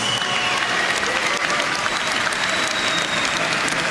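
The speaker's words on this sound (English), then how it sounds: "let's get a nice round of applause out here for both of these" Sustained applause from a large boxing crowd at Wembley, London, after a twelve-round heavyweight contest, a dense steady roar of clapping and cheering that holds at an even loudness throughout.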